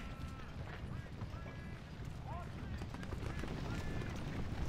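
Busy battlefield ambience from the video game Ultimate General: Civil War, with a steady wash of cavalry hooves and clattering gear, mixed with distant voices and faint creaks throughout.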